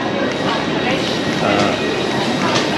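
A train at Interlaken Ost station in Switzerland, with dense, continuous rumbling and rail noise mixed with station bustle, loud and steady throughout.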